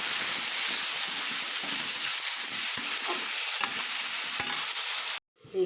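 Cumin, coriander and dried red chillies dry-roasting in a pan for Bengali kul pickle, giving a steady close crackling sizzle with scattered small pops and scrapes that cuts off abruptly near the end.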